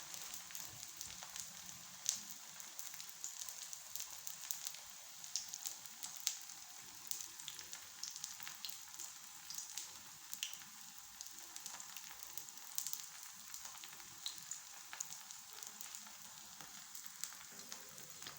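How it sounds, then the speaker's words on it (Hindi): Vegetable chapli kababs frying on a low flame, a faint, steady crackling sizzle with soft irregular pops, continuous and quiet with no talk. "इस तरह से हमने बिल्कुल हल्की आंच पे इनको फ्राई करना है"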